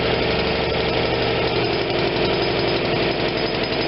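A Kohler Command Pro 25 engine on a Vermeer BC625A brush chipper idles loud and close, a steady low rumbling throb with a rapid mechanical rattle that holds unchanged throughout.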